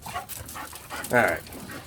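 A dog gives short yips and whimpering barks over about two seconds, close by, while a person talks over it.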